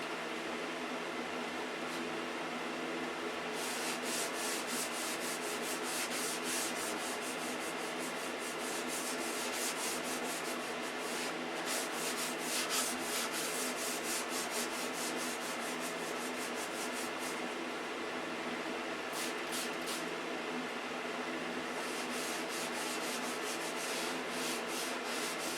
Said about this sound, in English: There's some places that if the sandpaper hits,